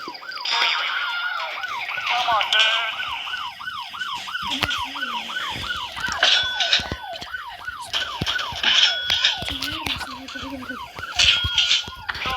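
A police car siren in a video game wails, looping rapidly and continuously, with clattering game effects and crashes mixed in and a brief voice in the background.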